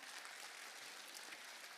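Steady audience applause from a crowd at a business seminar, dense clapping throughout, fairly faint and distant, with no pauses.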